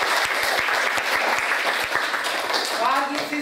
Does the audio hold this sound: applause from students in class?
yes